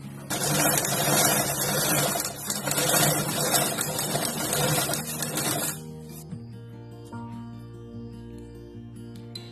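A sewing machine runs a topstitch seam across a fabric ladies' party bag, whirring loud and fast for about six seconds before stopping, leaving a faint tonal hum.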